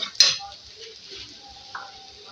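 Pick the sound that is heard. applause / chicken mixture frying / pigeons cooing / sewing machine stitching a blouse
chicken mixture frying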